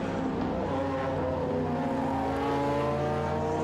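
Historic race cars including a Porsche, a Chevy Stingray and an Austin Healey Sprite run along the old start-finish straight at Winton, a continuous layered roar of engines at steady volume.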